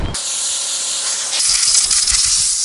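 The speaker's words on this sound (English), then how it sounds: "So I'm gonna blow them off real quick with the air compressor." An air compressor nozzle blasts dust off freshly sanded countertops inside a school-bus tiny home build, a loud continuous hiss that surges harder partway through the short burst.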